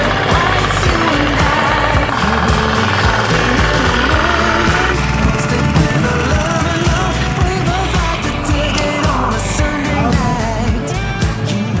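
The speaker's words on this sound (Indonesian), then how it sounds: "Traktor 4 roda mini FTI 2010D langsung turun di sawah yang seperti ini" A Firman FTI2010DE mini four-wheel tractor engine runs loud and close on hard ground by a rice field, with a continuous rough, knocking drone throughout.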